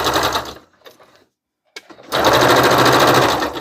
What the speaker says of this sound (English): So it's just the basting stitch all the way across the bottom.